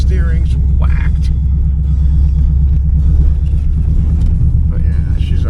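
2004 Pontiac GTO with a 5.7L LS1 V8 running in a wrecking yard, a steady, loud, deep idle rumble throughout, while a voice talks over it.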